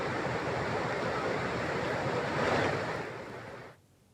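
Loud, continuous rushing of a flooded river roars without pause, then drops off sharply near the end.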